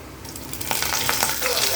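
Oil sizzles and crackles, the frying swelling louder as curry leaves are dropped into the hot pan with cumin seeds, with a steady spatter throughout.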